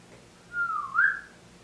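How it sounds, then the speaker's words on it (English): A person whistles two drawn-out notes, the second rising higher, loud and clear in a quiet room at a New York inn, with no talking. "I'm going to whistle."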